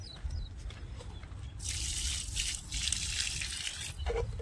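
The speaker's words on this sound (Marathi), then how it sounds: "तर त्या लिंबाच्या उंडीला पाणी वगैरे द्यायला. हे बघा" Water splashes and pours steadily onto the foliage and soil of a dried-out lemon plant after a quiet opening, with a low background rumble underneath.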